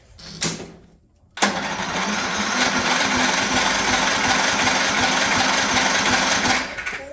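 A Craftsman Platinum lawn mower is pull-started by its ripcord: one short yank, a pause, then a loud, steady mechanical whir that runs for about five seconds before dropping away.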